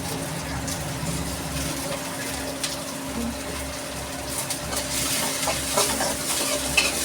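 Finely chopped large onion sautéing in a pan for a conch curry, with a moderate steady sizzle and recurring scrapes of stirring, plus a low background hum.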